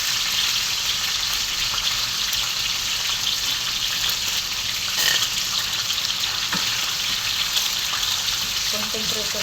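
Galunggong fish frying in hot oil give a loud, steady, close crackling sizzle that fills the whole stretch, with faint bits of talk and clatter underneath.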